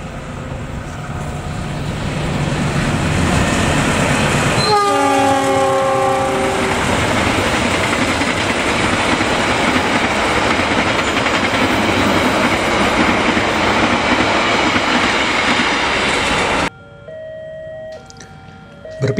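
KA Taksaka passenger train from Gambir to Yogyakarta roaring past at close range, with a loud sustained rumble of wheels and cars, a brief horn blast near the start, and the noise cutting off abruptly near the end.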